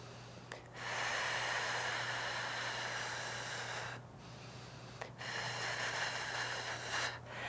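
Long, slow breaths pushed out through the mouth, several steady airy exhales separated by short pauses, close and soft.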